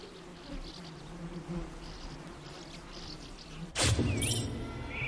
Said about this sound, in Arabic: نحلة العسل هي من أكثر الحيوانات المعروفة بتعاونها.